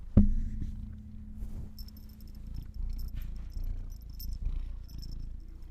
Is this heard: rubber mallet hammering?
no